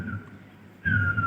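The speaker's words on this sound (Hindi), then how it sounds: "सीटी बजाई।" A single person whistles a steady high tone that breaks off briefly, then resumes louder over low background rumble.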